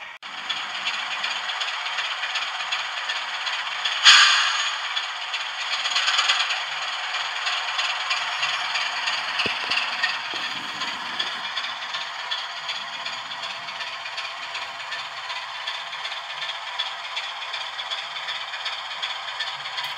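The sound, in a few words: model railway loco crossing a Peco Electrofrog short diamond crossing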